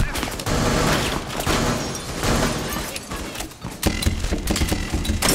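Shotgun blasts in a video game ring out in rapid, heavy bursts amid other loud gunfire, close and dense across the whole stretch, with little pause between shots.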